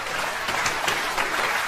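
A large theater audience at a stand-up comedy show breaks into applause, a dense, even wash of many hands clapping at once, loud and close, with no one speaking over it.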